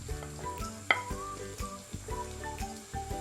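Green chili with grated ginger and garlic fries in a pan for hot and sour soup, a soft steady sizzle with occasional clinks and stirring, faint under background music, no talking.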